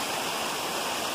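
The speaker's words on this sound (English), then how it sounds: "Nice little waterfall. Flowing down." Small waterfall along the Appalachian Trail, a steady, dense rush of falling water, close and continuous without any talk.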